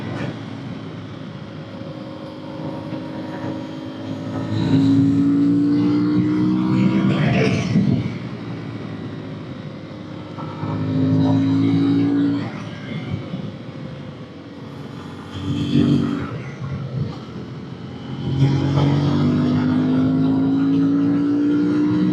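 Moto Morini adventure motorcycle accelerating through fourth gear toward 100 km/h, engine note rising in pitch across several long pulls with brief dips between, loud and close under buffeting wind noise.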